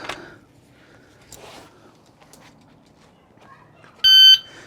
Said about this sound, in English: Timer goes beep.